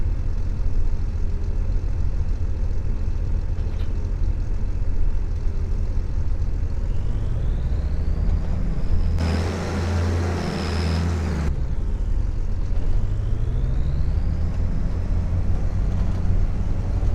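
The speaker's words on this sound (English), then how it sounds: "drive the harvester with its front to the header and attach it" Combine harvester in Farming Simulator 25 drives steadily, a continuous low engine drone with rising and falling whine as it maneuvers, one brief louder burst partway through.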